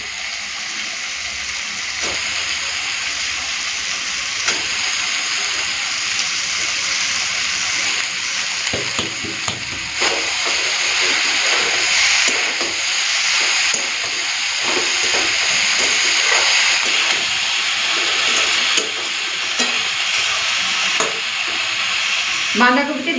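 Cabbage added to a fish head in a hot pan, sizzling and hissing steadily at close range, with scraping stirs breaking through the frying noise.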